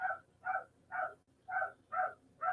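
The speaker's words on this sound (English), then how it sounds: "sorry about the dogs barking" Dogs bark outside in a slow, regular string of about six yelping barks, distant and faint, with nothing else competing.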